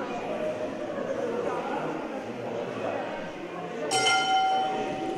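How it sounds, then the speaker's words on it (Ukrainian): A gong rings near the end to mark the close of the first period at a Ukrainian hopak hand-to-hand combat tournament, a single bright metallic strike with a sustained ringing tone, heard over steady arena crowd noise and commentary. "Зараз пролунає гонг про закінчення першого періоду."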